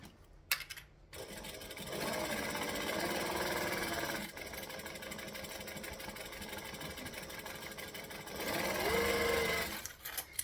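A sewing machine runs steadily, stitching down one side of an altered garment, a continuous close mechanical whir after a brief start, rising slightly louder near the end.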